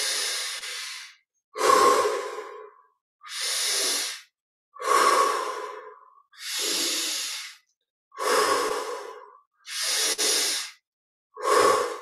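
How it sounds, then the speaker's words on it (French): Deep, slow breaths taking in lots of air, eight long inhale and exhale cycles close to the microphone, each a full airy rush separated by short pauses of silence. "on prend beaucoup d'air,"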